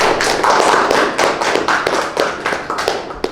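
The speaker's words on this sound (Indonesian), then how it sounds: "Kita beri aplaus dulu Desi." A classroom of students claps for a classmate's answer, loud close applause with quick overlapping hand claps pulsing for a few seconds.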